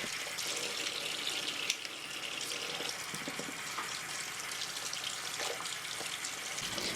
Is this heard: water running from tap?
yes